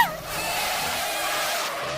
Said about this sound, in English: Looks like we were hit by a car.